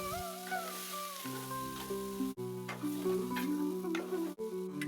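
Ground turmeric, chili and cumin, salt, dried red chilies and ginger paste frying in a pan with potato and pumpkin, a quiet steady sizzle with light stirring and a couple of brief clicks, no voices.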